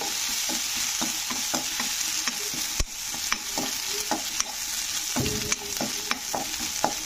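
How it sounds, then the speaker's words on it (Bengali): Chopped ginger frying in hot oil in a kadai, a continuous close sizzle broken by repeated clicks and scrapes of a spoon stirring, no voices. "এবারে আদাটাকে কিন্তু একটু তেলে কষে নিতে হবে।"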